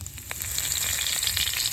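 Cumin seeds and a bay leaf hit hot oil in a pan, giving a loud, close, steady crackling sizzle with sharp spitting pops throughout.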